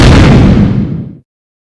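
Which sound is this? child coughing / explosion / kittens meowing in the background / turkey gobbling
explosion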